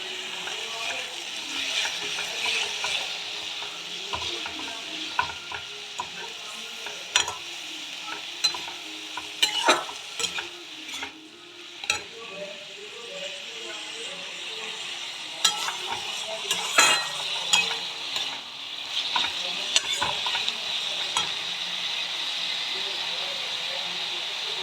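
Tomatoes fry with a steady sizzle and hiss in a pan, broken by repeated scraping clicks as they are stirred, close and fairly loud throughout.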